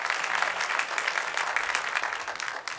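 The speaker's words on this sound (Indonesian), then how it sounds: "Kasih tepuk tangan sekali lagi Bapak Ibu." Sustained applause from a church congregation during a sermon, dense steady clapping from many hands filling the room, fairly loud and close, tapering slightly at the end.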